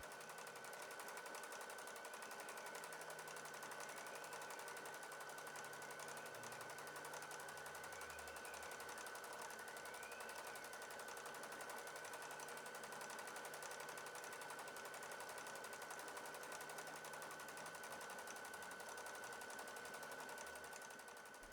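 A sewing machine runs continuously while thread sketching a maidenhair fern, a faint, fast, even mechanical whir and rattle that carries on without pause.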